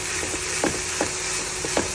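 Garlic frying in a pan as the base for homemade fried rice gives a steady sizzling hiss with a few soft stirring scrapes, close and continuous, with no talking.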